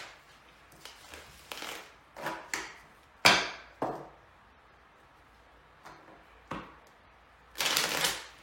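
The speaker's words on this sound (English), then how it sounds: "I'll give it one or two more shuffles while you're on the phone with me" A deck of playing cards is shuffled by hand in several short crisp bursts of riffling and tapping, spaced apart with quiet pauses, the last burst longest and loudest, close to the microphone.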